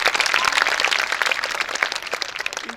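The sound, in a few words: audience applause welcoming an organization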